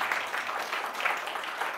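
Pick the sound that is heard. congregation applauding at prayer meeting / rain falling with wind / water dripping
congregation applauding at prayer meeting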